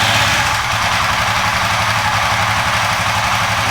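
A car engine running steadily after warm-up, fitted with an MSD, Speedspark or Nology ignition coil, a loud even idle with a low rhythmic throb and no talking.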